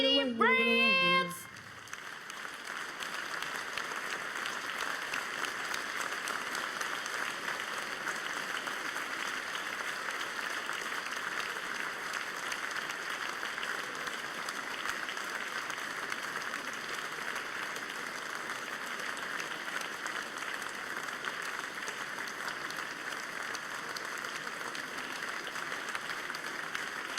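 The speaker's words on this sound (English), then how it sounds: "Keep the applause going" Live audience at a comedy chat show applauding, a long, even, moderately distant wash of clapping that follows a brief vocal burst at the start and carries on steadily without a break.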